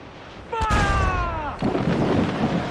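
Ship cannons fire in Assassin's Creed IV Black Flag, a sharp boom followed by a sustained rumbling roar as a shouted command rings out over the blast.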